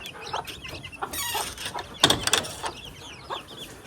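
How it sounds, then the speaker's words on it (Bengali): Crested hens and a rooster on a backyard country-chicken farm cluck in short, scattered calls, with a few louder bursts in the middle against low outdoor background noise. "তিনটা ঝুটিয়ালা মুরগি একটা ঝুটিয়ালা মুরগ আর একটা নর্মাল মুরগি"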